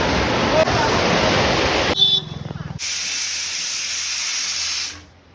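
Potatoes boiling in a pot in a flooded Assam village, heard as a loud, steady hiss and rush that breaks off briefly, then returns and fades at the end, with a voice talking.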